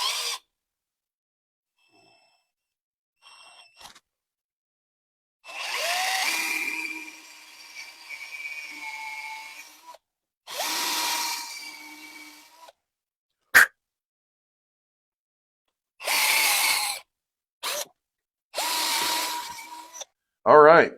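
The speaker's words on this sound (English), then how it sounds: "So we're just going to ream the neck out" A neck reamer is turned by a small power tool inside a 22 Lindahl Chucker brass case held in a shell holder, giving several short whirring bursts of a few seconds each with pauses between and a couple of sharp clicks.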